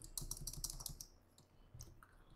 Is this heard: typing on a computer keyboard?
yes